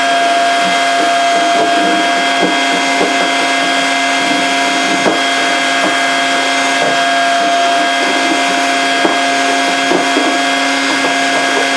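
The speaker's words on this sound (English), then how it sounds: "just put the vacuum on." A vacuum cleaner runs steadily in a garage while paint is scraped off an F100 tailgate, a loud constant whine with a few faint scraping clicks under it, no talking.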